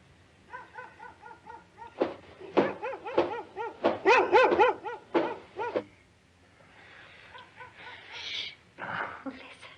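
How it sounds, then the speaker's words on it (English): A dog in a 1977 horror film barks and yips in a burst of repeated, harmonic cries on a first night in a new house, loud and close, then quieter whining and yelps trail off. "I'm telling you, it's only the dog."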